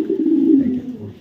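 Pigeons of a foreign bloodline coo close by: one steady, low, throaty coo rolls on for about a second and fades, with no talking over it.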